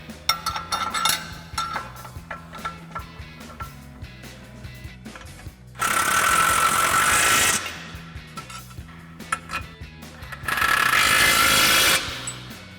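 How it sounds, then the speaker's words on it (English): An impact wrench with an 18 mm socket tightens nuts on a Ford F-150 front suspension during a Bilstein leveling kit install, giving two loud, sustained rattling bursts, with lighter mechanical clicks and handling noises before them. "we're going to tighten these down using our 18 millimeter socket on our impact and an 18 millimeter wrench"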